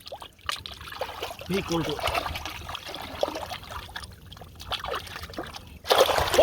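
River water trickles and splashes as something is washed in the flowing current close by, with a person speaking briefly over the watery sounds and a louder splash near the end.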